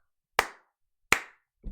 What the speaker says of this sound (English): Let me stand up and slow clap that.